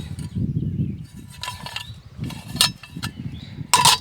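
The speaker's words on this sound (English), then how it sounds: "Next, we have the Corporals Corner folding cold handle skillet. Check out that action." A Corporals Corner folding cold handle skillet is folded, giving a few sharp metallic clicks and clacks spaced over a few seconds, close by over a low rumbling background.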